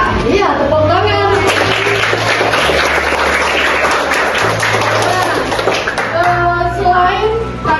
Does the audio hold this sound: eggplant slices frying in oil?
no